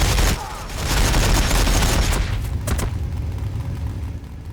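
Heavy, loud gunfire and booming blasts from Imperial Guard forces shooting Cadian shock troops in a Warhammer 40,000 battle game, dense and continuous for a few seconds before tailing off slightly.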